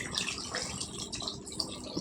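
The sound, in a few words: water poured into the brinjal curry pot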